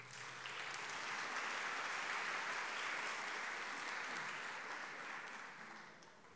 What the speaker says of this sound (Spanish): la bienvenida entonces al doctor Escallón, con un aplauso.